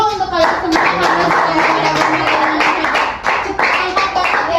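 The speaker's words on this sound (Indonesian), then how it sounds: "tepuk tangan dulu untuk kalian semua" A class claps its hands for the students during an English recount-text teaching session, a dense, continuous rhythm of claps close by, with a voice speaking over the clapping throughout.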